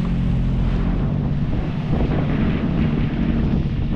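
Strong wind roars across the microphone at sea aboard a boat, a loud, constant rush mixed with the low churning of big waves, with no voices.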